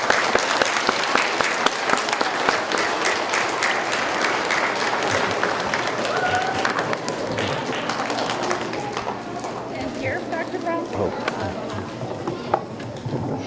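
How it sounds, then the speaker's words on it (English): Students applaud at a school keynote, steady dense clapping and a few cheers from a crowd filling the room, sustained throughout and slowly thinning toward the end. "So give yourselves a big round of applause"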